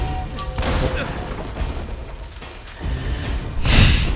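Booming gunshots in Uncharted: Drake's Fortune, a couple of heavy blasts with a loud one near the end, amid continuous background game noise and some talking.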